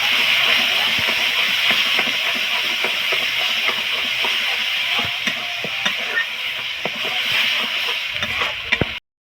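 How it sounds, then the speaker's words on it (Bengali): Spices for dal frying in hot oil, a dense continuous sizzle with scattered scraping and stirring clicks, near and loud, cutting off abruptly at the end. "মশলা ভাজা হয়ে গেছে"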